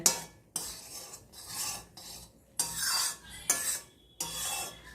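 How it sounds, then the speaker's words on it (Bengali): A spoon stirring puffing, rising food in a pan, several separate scraping strokes against the metal with brief pauses between them, close and fairly quiet, no voices. "দেখো এবার আমি এটাকে নাড়িয়ে দেবো ফুলে উঠছে"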